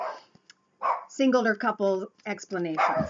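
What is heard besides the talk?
dog barking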